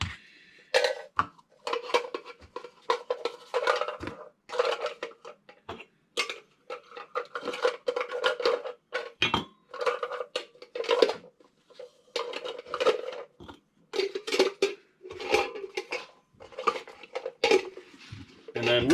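Metal camping cook-set pieces such as pots, cups, a strainer and a measuring cup clink and clatter as they are handled, in irregular bursts of knocks and scrapes, with a voice speaking in between.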